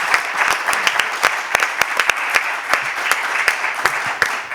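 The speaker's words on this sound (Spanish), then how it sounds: "simplemente darte un aplauso y darte las gracias" Audience applause closing a conference session on shore power supply to ships in port: a dense, fairly loud burst of many people clapping with distinct sharp claps throughout, no speech.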